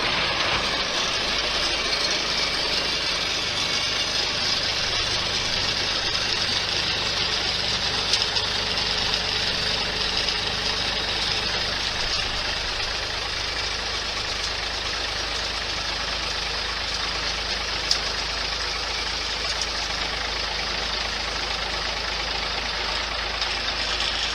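A 1961 Mack B61 truck idles with its PTO engaged, a steady, loud diesel drone with a low throb and faint knocking that holds unchanged throughout, with no voices.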